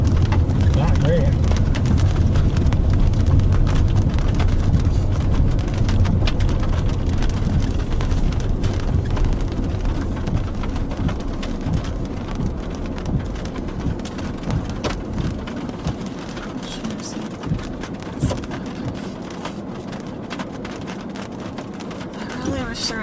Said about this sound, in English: this storm is just dying out